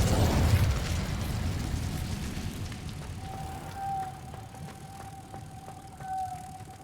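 Incendio fire spell cast in the video game Hogwarts Legacy, a loud whooshing burst of flame at the start that fades into a lower crackling rumble, with a steady magical tone ringing over it.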